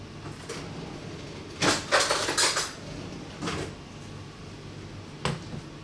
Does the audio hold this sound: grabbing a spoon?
yes